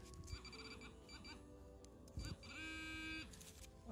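A handheld metal detector sweeping a field in the UK while hunting silver coins gives off quiet, wavering electronic beeps and tones in a rapid, uneven sequence.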